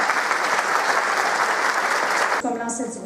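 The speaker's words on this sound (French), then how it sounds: "Applaudissons nos invités d'honneur." An audience applauds guests of honour at a university graduation ceremony, with sustained, dense clapping filling the room, and a voice speaking over it in the last moments.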